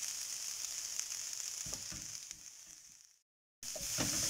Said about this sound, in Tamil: இப்போ நான் தேங்காய் துருவல் வந்து ஆட் பண்ணிக்கறேங்க